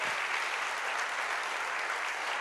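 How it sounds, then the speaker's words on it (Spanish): Church congregation applauding steadily throughout, a dense, even wash of many hands clapping at a consistent loud level. "que alguien aquí le dé un aplauso a Dios"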